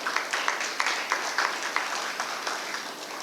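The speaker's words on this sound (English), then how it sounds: "They all deserve good, thunderous applause." Audience at a conference inauguration ceremony applauds, a sustained wash of many hands clapping with scattered sharper claps standing out, moderately loud and without speech.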